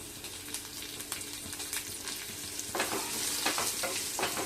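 Crushed garlic and dried red chillies sizzle steadily in a pan with oil, a continuous close crackle that swells slightly toward the end, with a utensil stirring now and then.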